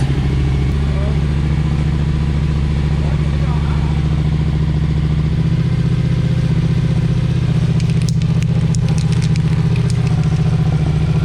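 A Yamaha MT-07 motorcycle engine idles steadily while warming up after being started, a loud, continuous low throb that runs throughout, with a shift in tone about halfway and some faint clicks and rattles near the end.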